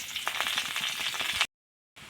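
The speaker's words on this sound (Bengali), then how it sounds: "গরম হয়ে যাওয়ার পরে আমরা কিছু পেঁয়াজ কুচি দিলাম।" Chopped onion frying in hot oil in a wok, a loud close sizzle with crackling pops that cuts off abruptly, then resumes briefly after a short silence.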